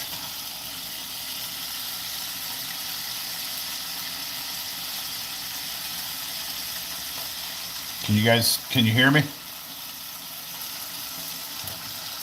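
Steaks frying in a pan give a steady, fairly loud broadband sizzle that runs throughout, with a voice speaking briefly near the end.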